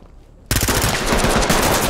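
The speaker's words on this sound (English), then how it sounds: "Oh yeah, I'm getting shot at all the way in the back." Loud, rapid automatic gunfire erupts suddenly in the tactical shooter game Ready Or Not. A sustained, dense burst of shots follows a brief quiet moment.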